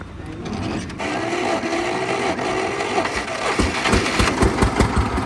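A modified DT 14 tractor's single-cylinder engine starts up close by, its chugging turning into a quick, rhythmic thumping that grows louder toward the end.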